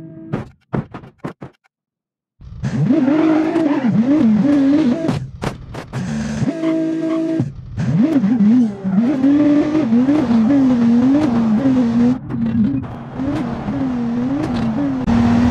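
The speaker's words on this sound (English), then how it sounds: "Let's just enjoy this vehicle just going in loop de loops." Simulated Ford Flex SUV in BeamNG Drive looping through loop-de-loops, engine note rising and falling continuously with revving and tire noise, loud and close after a brief quiet start with a few short knocks.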